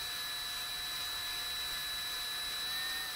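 A drill powers a honey pump extracting honey from a flow beehive, a steady, loud high-pitched whine with constant tonal hum and no changes.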